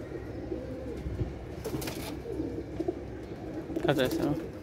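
Giribaz pigeons in a loft coo softly in low, rolling bursts, fairly near, over a background hum, with a couple of brief louder sounds between them.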